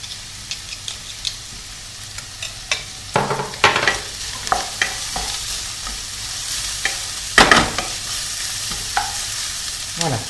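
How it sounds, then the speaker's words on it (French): A spatula repeatedly scrapes and stirs rice with garlic in a pan over high heat, sharp irregular strokes ringing out above a steady frying sizzle, close and fairly loud with no talk. "Je remue sans arrêt et je suis toujours sur feu vif."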